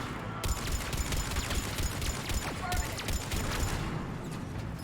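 Turret gunfire in Mass Effect 3 crackles as dense, continuous volleys of rapid shots from several guns, steady and loud throughout with busy combat noise around it.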